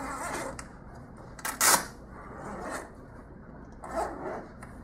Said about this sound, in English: So either way, either unzip it or unlatch it.